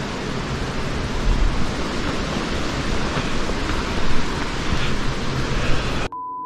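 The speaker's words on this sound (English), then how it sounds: "Is it just wind or what?" Strong wind blows at a woodland campsite, a loud continuous rushing roar buffeting the microphone that rises and falls slightly before cutting off abruptly near the end.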